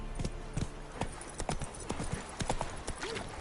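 The horse Roach clip-clops along in The Witcher 3, a brisk run of close, crisp hoofbeats in an uneven trotting rhythm, a little loud against a quiet game background.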